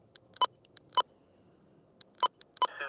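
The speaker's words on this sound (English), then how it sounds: "I'm going to hear some beeping." A radio channel gives short electronic beeps in an irregular pattern: two separate beeps, a pause, then two more close together, followed by a brief burst of noise.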